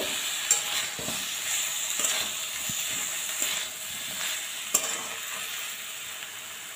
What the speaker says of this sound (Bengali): এবার ধনেপাতা কুচিটা দিয়ে দিলাম। মিশিয়ে নেব।